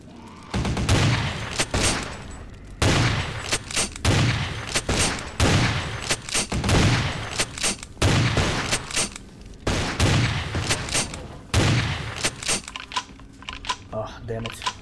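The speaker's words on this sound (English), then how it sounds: "There's a guy with a fucking machine gun there." Machine gun fire in the vampire video game Vampire the Masquerade Bloodlines: loud, rapid bursts of automatic shots repeating in a steady stop-start rhythm, close and dominant throughout.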